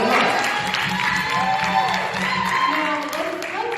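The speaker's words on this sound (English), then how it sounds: "Give her a hand of applause." An audience at an entrepreneur networking event breaks into steady applause for a speaker, with crowd noise and some voices mixed into the clapping throughout.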